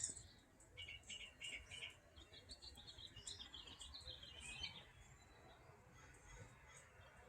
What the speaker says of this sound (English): First, I listen to the birds sing.